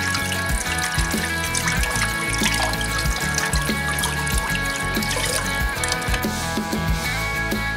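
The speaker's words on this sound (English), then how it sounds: "I'm going to drain and rinse off the ribs and the pot as well." Water runs steadily from a tap over blanched beef short ribs and a pot, a continuous rushing splash of draining and rinsing in a kitchen, with clattering and sloshing throughout and no talk.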